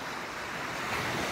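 A chilly September autumn wind gusts steadily, a dense, loud broadband roar like surf or gusting air that holds without pause.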